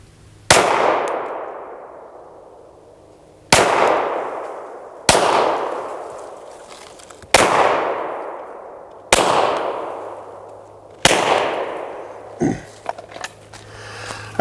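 Six sharp pistol shots ring out one at a time during a trigger finger drill, spaced about two seconds apart, each a loud crack with a ringing decay, and a small clink follows the last shot.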